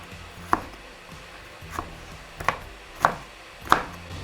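A knife chops vegetables into thin strips on a cutting board with five distinct, sharp knocks spaced unevenly, close and clear, with no talking.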